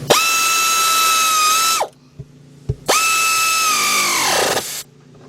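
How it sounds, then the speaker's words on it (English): A 3/8-drive ratchet with a 15mm deep socket tightens a fastener during timing belt and radiator work on a Chrysler-family engine, giving two loud, sustained mechanical whirs of about two seconds each, separated by a brief pause with faint clicks. "got a 15mm deep socket, 3/8 drive. Tighten it up."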